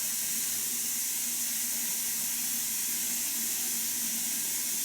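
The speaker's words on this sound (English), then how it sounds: "they're going to require to make sure the hot water is running, so we're just testing that right now" Hot water runs from a tap during a final house inspection, giving a steady, even hiss of flowing water with no talking.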